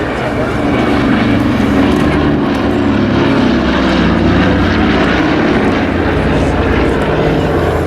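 The Battle of Britain Memorial Flight's Douglas Dakota ZA947 at RAF Cosford in 2015, its piston aircraft engines droning loudly and steadily throughout with a deep, rumbling propeller roar and no pauses.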